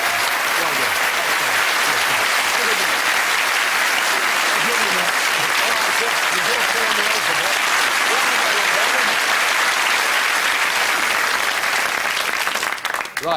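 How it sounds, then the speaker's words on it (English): A studio audience at a Saturday-night darts and trivia game show claps loudly and continuously for a contestant, with voices cheering and calling out beneath the dense applause before it fades slightly at the end. "give our sixth contestant a really warm round of applause"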